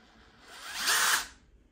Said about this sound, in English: I'm liking my new impact drivers. It's really quiet. And I can control the speed of this thing really well.